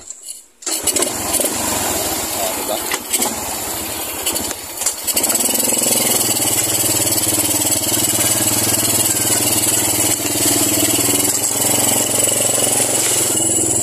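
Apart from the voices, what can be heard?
motorcycle engine starting and idling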